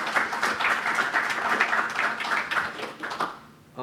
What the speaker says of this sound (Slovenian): Imamo pa aplavz